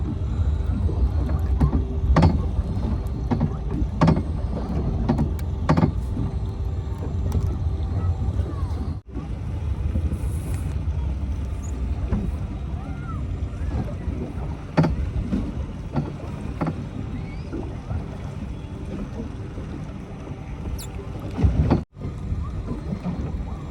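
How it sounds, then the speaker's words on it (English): Strong wind roars across a small boat on Botany Bay, a loud continuous rumble of gusts buffeting the microphone, with water slapping and faint knocks underneath. "The wind has really picked up and it's making it very hard"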